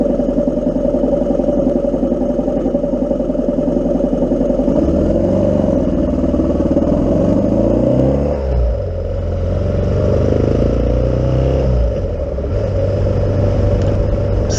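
Yamaha 600 XT motorcycle pulling away from a green light on a city street in Lille, loud close engine rumble with a clear rise in revs as it accelerates through the gears, steady throughout.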